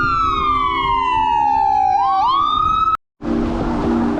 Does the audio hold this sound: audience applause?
no